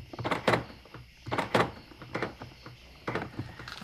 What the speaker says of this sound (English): doors are locking and unlocking.